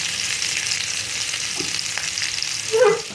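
Chunks of raw green mango frying in oil as jaggery is tipped in, a continuous soft sizzle with a brief louder stir and clatter near the end, no voices.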